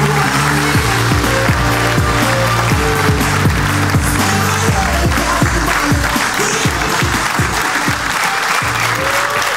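Audience in a TV studio breaks into loud, sustained applause, dense clapping filling the whole stretch with music playing underneath.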